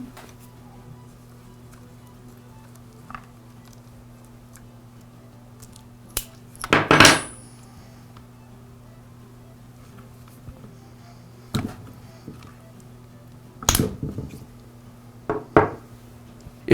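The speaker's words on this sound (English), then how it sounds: "Now I'll remove the throttle cable and the fuel lines from the carburetor." Sparse metallic clinks, scrapes and small part handling as the throttle cable and fuel lines are pulled off the carburetor of an Echo string trimmer, with isolated bursts over a low steady hum.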